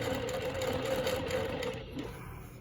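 A longarm quilting machine stitches with rulers, a steady, fairly loud mechanical whir with a rapid stitching rhythm that eases slightly near the end.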